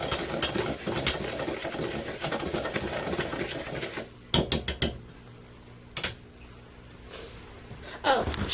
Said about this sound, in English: you just take a whisk. And you mix that all together.